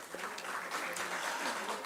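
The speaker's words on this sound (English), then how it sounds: "If yes, give the event a round of applause, please." Audience at a cardiodiabetic medical conference applauding together, a steady, moderately faint wash of clapping sustained without a break, with no talk over it.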